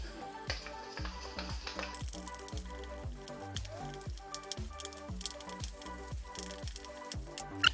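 Shower gel and cornstarch are mixed into a thick slime paste, giving soft repeated squishing and sticky clicking strokes at close range, quiet and steady with no talking.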